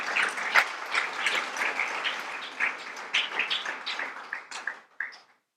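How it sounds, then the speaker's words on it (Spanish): A congregation at a Spanish-language church service claps in a moderate, uneven burst that fades and stops abruptly, heard fairly close with no talking over it. "Denle un fuerte aplauso al Señor."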